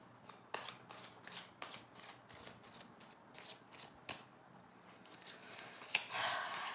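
Tarot cards are shuffled close up, a rapid series of crisp riffling bursts in an uneven rhythm, quiet and alone, ending in a longer flutter of cards.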